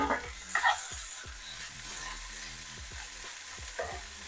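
Ingredients sauté in a pan with a soft, steady sizzle, punctuated by repeated scraping stir strokes of a spoon against the pan, fairly quiet and close.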